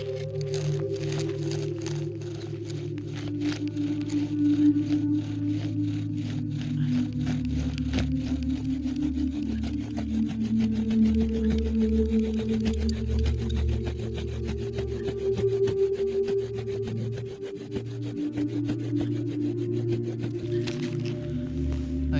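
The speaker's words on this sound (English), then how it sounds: "Drilling through the ice fairly quickly, but it is working." Steady grinding and rubbing of a bow drill spinning against a block of ice in freezing conditions, continuous with rhythmic back-and-forth strokes and a droning, squeaky tone.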